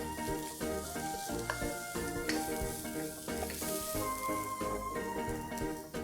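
Onion and green chilies frying in a pan with garlic for pan-fried noodles, a steady sizzle punctuated by stirring scrapes and clinks, fairly close, with no voice over it.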